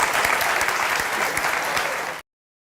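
Crowd applause sound effect, dense and steady clapping from a large audience that holds at full volume for about two seconds and then cuts off abruptly into silence.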